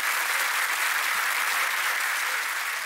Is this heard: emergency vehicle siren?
no